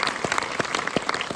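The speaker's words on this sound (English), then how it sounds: "one more round of applause for this amazing movie" Audience applause after a screening of a film about SNL, a steady wash of clapping from a full room across the whole moment, with a few sharper claps standing out.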